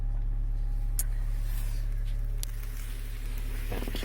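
A Honda Jazz with a CVT automatic gearbox that judders drives along, heard from inside as a steady, loud low drone with a few faint knocks and clicks near the end.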